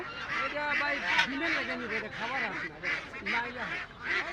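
Egg-laying ducks quack in repeated nasal calls amid the bustle of a village market in Golakandail, Bangladesh, with people talking loudly over and around them throughout.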